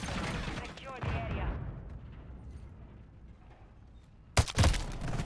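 Shooter video game gunfire: a couple of sharp loud shots burst out near the end after a stretch of quieter background noise and some talk early on.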